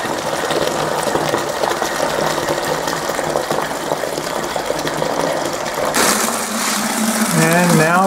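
Backset liquid pours and gushes steadily into a sour mash fermenter in a continuous loud rush of water, with a voice speaking over it toward the end.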